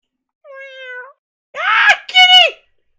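A cat in a video game meows three times, clearly and close: one short smooth call, a pause, then two more strained, throaty meows.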